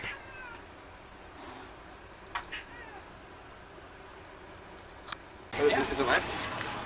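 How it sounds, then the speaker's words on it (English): Cats fighting, with a few faint meows early on and then a loud, harsh burst of yowling and screeching near the end, heard over people talking at an outdoor festival gathering. "Cat fight."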